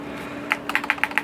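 A handful of crisp key taps on a computer keyboard while entering a mouse DPI value, starting with a single press and then a quick run of evenly spaced clicks, close and clear.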